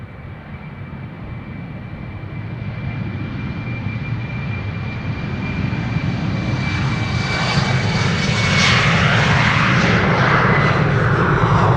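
A KLM airliner takes off from Amsterdam Schiphol on a flight to Aalborg, its engine roar building steadily and growing louder and higher as it accelerates, with no voices.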